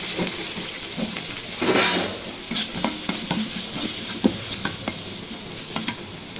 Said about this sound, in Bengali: তেল গরম হয়েছে তেলের মধ্যে আলুগুলো ভেজে নেব